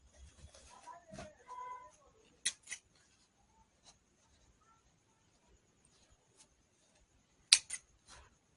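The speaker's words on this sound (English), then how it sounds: "I need to cut the threads" Scissors snip loose sewing threads on a box-pleat blouse: a few quick, crisp cuts in two small clusters, quiet and close, with soft handling rustles before them and near silence between.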